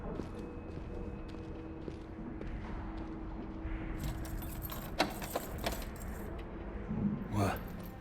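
Metal keys jangle in Dishonored 2 over low game ambience, several bright rattling bursts partway through and a louder jingle near the end.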